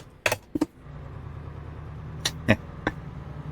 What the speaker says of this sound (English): So instead of just revving the engine out, let's just go easy on it, shall we?